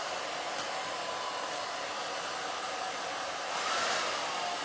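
A handheld hair dryer blows steadily to dry Mod Podge on a rustic craft pantry jar, a constant close whooshing roar that swells slightly near the end, with no talking.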